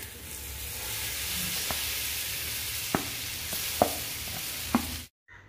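Chopped plantain sautéing in ghee for Malabar-style paalvazhakka gives a steady, close sizzle with a few sharp utensil taps, then cuts off abruptly.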